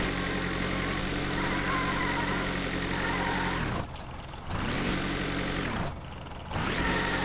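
A car engine sound effect in a Unity game hums steadily at low revs, dropping away briefly twice as the revs dip and then swelling back, with no talking.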